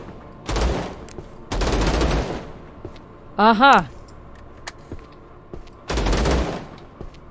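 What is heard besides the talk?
gunshots fired in the video game Vladik Brutal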